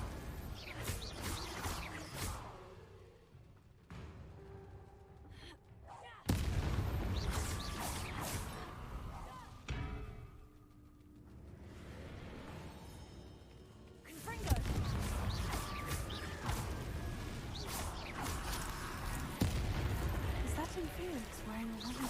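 Confringo fire-spell blasts in the Hogwarts Legacy video game land as repeated loud booming bursts and crackling impacts, with quieter gaps of game ambience between them.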